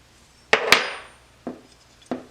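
Metal punch tapping out the sear pin of a LAR Grizzly Mark I pistol during disassembly: a sharp double strike followed by two single taps spaced about half a second apart, close and crisp.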